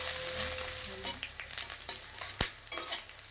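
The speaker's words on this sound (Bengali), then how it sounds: "পেঁয়াজটাকেও ওই একই রকম ভাবে একটু লাল লাল করে ভেজে নিতে হবে" Oil sizzles steadily in a pan as chopped onions fry, with occasional clinks and stirring scrapes over the constant hiss.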